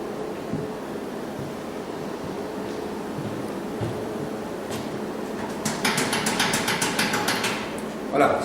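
An adductor machine in a gym gives a run of rhythmic mechanical clanks and ratcheting knocks over steady broadband room noise, with the repetitions growing clearer toward the end.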